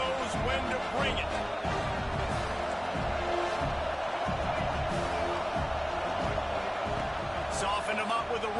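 Dense, steady stadium crowd roar from a college football video game fills the clip with constant broadband noise and no clear breaks, loud and close, with some commentary-like voice layered underneath.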